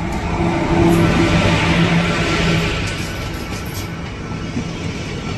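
A Tebhaga Express passenger train gaining speed, with a loud, steady rumble and clatter of rail cars that swells early and then eases slightly. No voices.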